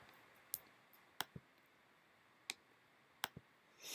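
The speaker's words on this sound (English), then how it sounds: "So I can click the Complete button in the bottom right-hand corner" A computer mouse clicks an on-screen Complete button: a handful of sharp, dry clicks spaced irregularly, some arriving as quick double taps, crisp and close against a quiet background.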